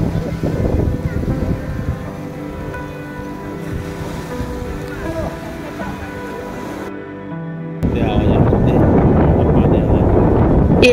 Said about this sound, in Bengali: এবার আকাশ কালো করে এলো তুমুল বৃষ্টি।